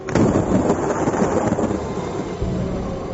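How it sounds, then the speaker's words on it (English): Violent thunder: a loud, close, rumbling crash that rolls on for a few seconds and then settles into a lower continuing grumble, with a rain-like hiss underneath. "there was violent thunder and lightning."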